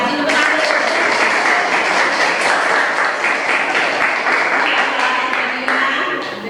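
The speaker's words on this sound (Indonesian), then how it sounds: "kasih tepuk tangan" Students in a classroom guidance session applaud together for about six seconds, a dense, steady wash of clapping that stays loud throughout and thins only slightly at the end.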